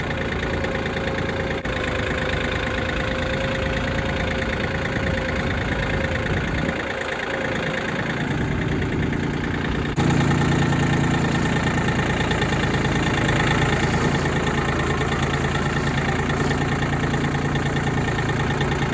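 A tractor engine chugs steadily while carrying a scoop of dirt across a field, a low rumbling drone that grows louder and rougher about halfway through, close and continuous.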